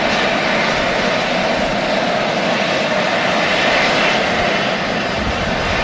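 Jet engines of an Emirates airliner waiting to taxi at Manchester Airport behind a Loganair Embraer 145, a loud, steady, close roar with no talking.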